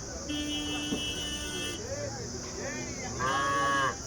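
Cattle low in a few drawn-out moos amid a busy outdoor crowd at the weekly Wednesday cattle market in Punganur, Andhra Pradesh, with people talking and a faint horn-like tone in the background.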